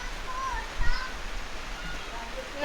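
Unseasonal summer rain falls in Konkan as a steady, even hiss, while children's and adults' voices chatter and squeal over it.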